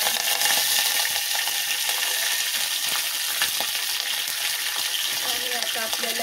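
Mustard seeds, green chillies and curry leaves splutter in hot oil for a tempering to pour over rava dhokla. Close, bright crackling and popping hiss continue steadily throughout.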